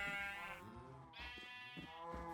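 Sheep in a farming video game bleat repeatedly and loudly, several wavering, nasal calls following one another close up with no talking over them.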